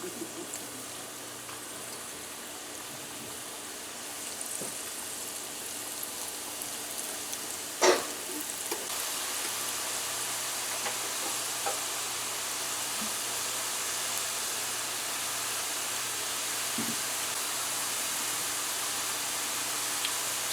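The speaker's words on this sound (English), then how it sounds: "our oil is hot and we're gonna begin frying our Latto" Guyanese latto hard mithai dough frying in hot oil, giving a steady, even sizzling hiss that runs throughout, with a brief sharper crackle near the middle.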